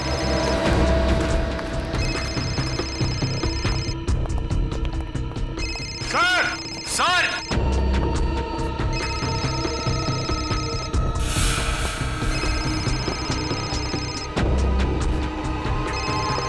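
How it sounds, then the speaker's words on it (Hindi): A mobile phone rings with a repeating electronic ringtone amid a tense, dramatic music score and booming effects, while voices call out urgently over it. "सालुंके साहब का फोन तो यहीं पे बज रहा था ना?"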